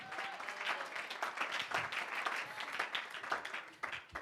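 A church congregation claps loudly in sustained, dense applause with scattered voices mixed in, heard from within the room.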